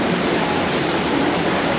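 Steady rushing water pours continuously from an irrigation pipe, a dense even hiss with a low churning undertone, close and loud throughout.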